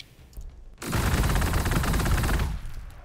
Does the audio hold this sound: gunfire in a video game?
yes